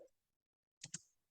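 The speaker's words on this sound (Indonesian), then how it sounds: "saya akan mengetik" Two quick keystrokes click on a computer keyboard in an otherwise quiet room, crisp and close.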